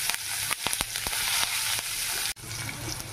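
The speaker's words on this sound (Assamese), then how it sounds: "এয়া দেখিছে সৰিয়হতে ফুটি গ'ল আৰু ইয়াতে পিঁয়াজখিনি দি দিম আমি।" Onions fried in hot mustard oil sizzle loudly up close, with repeated crackling pops and stirring scrapes throughout.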